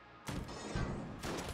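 A double shotgun fires in Enter the Gungeon, two loud blasts about a second apart, each with a broad crash and a short tail.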